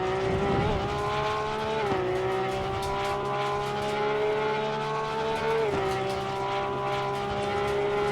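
A Porsche GT3R race car in the ACC racing game laps Monza, its engine droning loud and steady at high revs, dipping briefly at two gear shifts before climbing again, with no voices.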